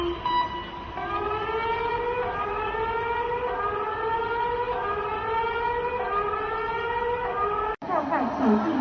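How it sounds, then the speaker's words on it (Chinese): Earthquake early warning siren in Chengdu, Sichuan, a steady loud wail with repeating rising sweeps that runs almost the whole time, then cuts off abruptly near the end. "提前10秒到几十秒发出警报"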